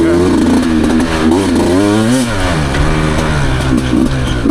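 A 2023 Beta Xtrainer dirt bike revs hard in third gear, its engine note climbing and falling loudly up close as the rider works the throttle.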